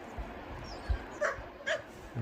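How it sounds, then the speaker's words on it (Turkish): Outdoors near a fire, a dog gives a few short, soft yips and whimpers, faint and a little distant, amid low background noise. "Diğer köpek ateşten korkuyor."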